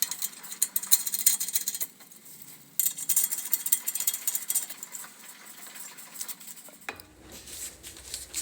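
Metal lug nuts clink and rattle in a hand during a Lexus IS300 brake caliper and coilover job, several bright jingling bursts close up, a short pause, then more loose metallic clatter fading into a dull knock near the end.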